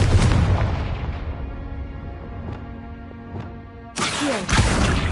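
A Confringo blasting spell detonates in a video game, a heavy booming blast decaying into a long rumble, then a second sharp burst of impact near the end.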